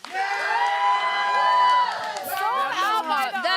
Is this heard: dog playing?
no